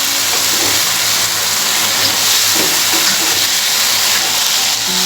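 Chopped capsicum sizzles and fries steadily in a hot pan for a kaleji pota dish, a loud, continuous crackling hiss with no talking.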